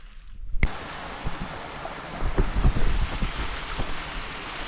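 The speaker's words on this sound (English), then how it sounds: "There's a small, beautiful waterfall here with a few overhangs to check out." Small waterfall in wilderness: a steady broadband rush of falling water starts abruptly and keeps going close by, with faint splashes and gusts over it.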